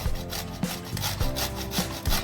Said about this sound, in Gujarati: આમ ફરતી ફરતી ખમણવાની, એટલે ગોટલો કે કઈ હોય ને એ ન આવે।